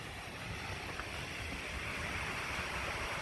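Water pours steadily over a small dam spillway at Hyatt Reservoir, a continuous broad rushing hiss with no breaks, heard from nearby outdoors.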